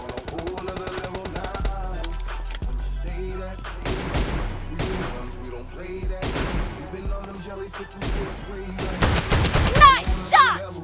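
Rapid bursts of gunfire and shotgun blasts in a PUBG Mobile team deathmatch, loud and repeated over game music, with announcer voice lines in between.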